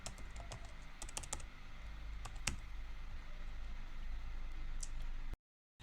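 Fingers tap on a computer keyboard in quick, uneven bursts of clicks over a soft steady hiss, close and quiet, then cut to silence at the end.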